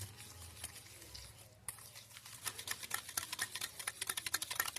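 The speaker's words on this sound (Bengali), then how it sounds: "দিয়ে ভালো করে চিনিটাকে মিশিয়ে নেব তেলের সঙ্গে" Powdered sugar being mixed into oil in a bowl for a bottle gourd cake, a rapid clicking and scraping of a spoon against the bowl that quickens and grows louder toward the end, close up.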